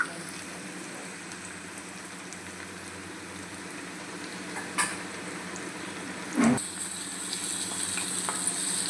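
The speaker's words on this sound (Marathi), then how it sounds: "यात मी लसूण टाकतो। लसूण चांगला असा परतून घ्यायचा।" Garlic fries in hot oil with a steady, moderate sizzle as it is stirred, broken by a couple of brief louder scrapes or clinks from the pan.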